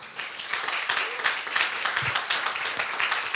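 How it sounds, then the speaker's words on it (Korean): Applause from a church congregation during a Sunday worship service, a steady patter of many hands clapping at once for a few seconds, close and fairly loud, with no speech over it. "1년 한 해 참 애써주셨는데 우리 한번 박수 한번 쳐주실까요?"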